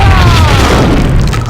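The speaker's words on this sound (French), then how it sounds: "le mur qui explose" A wall explodes in the Max Payne video game with a heavy, loud boom and a rumbling crash that fills the whole brief moment.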